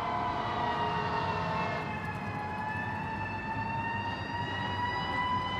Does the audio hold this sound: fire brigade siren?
yes